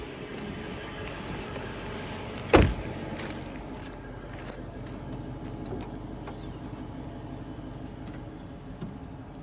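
A 2010 Dodge Charger police pursuit car's trunk release pops once with a single sharp, close thunk, set against a steady low background hum that carries on alone afterward.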